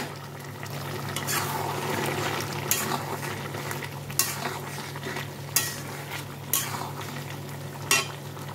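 Shukto finished with ghee and ground five-spice, stirred in a pan: a soft bubbling sizzle close up, broken by several sharp clinks of a spoon against the pan, with no talking.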